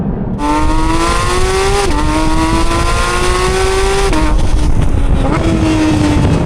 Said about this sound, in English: the noise, I mean, the BMW just can't come close. This is pure motorsport, this sound.